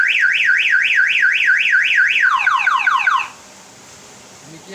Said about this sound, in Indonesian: di mana debit air ini sudah naik, switch akan bekerja dan alarm berbunyi